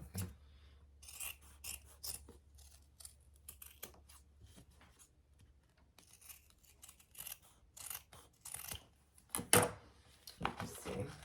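Scissors trim a piece of stiff Peltex interfacing, with a series of quiet, close snips and rubbing scrapes in irregular bursts, and light movement noises between cuts.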